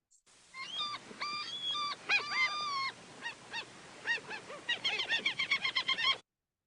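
A flock of seagulls calls overhead in a calm beach meditation soundscape, with repeated bright squawks and honks building into a quick run of rhythmic calls near the end, clear and alone.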